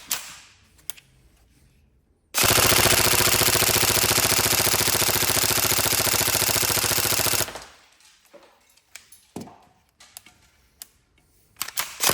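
A Tokyo Marui MP5A5 airsoft electric gun with a cobalt motor fires one long, loud, rapid full-auto burst lasting about five seconds. Quiet handling clicks and rattles come before and after it.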